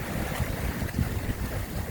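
Ocean waves wash ashore on the north coast, a short, rushing surge of surf blended with wind buffeting the microphone.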